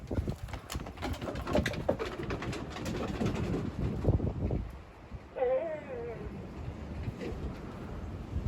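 Pigeon or dove cooing in a wavering, tonal call that rises briefly over steady background noise and muffled household sounds, with people talking around it.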